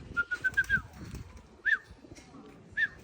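Pigeons out on a street, a few soft cooing and whistling calls in short bursts against faint background noise, near and fairly quiet.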